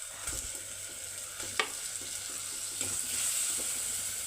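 Tomatoes go into a hot pan for a sardine curry cooked with green peppercorns and tamarind, giving a steady close sizzle and frying hiss with a few sharp stirring scrapes and clinks of a utensil against the pan.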